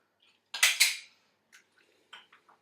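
A spoon stirring mug cake batter with orange juice in a mug gives two loud, bright clinks close up, followed by a few faint, scattered taps.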